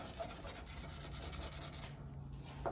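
A scraper rasps a minor paint run off the painted body of a Porsche 914, giving a close, repeated rubbing scrape for about two seconds before it stops.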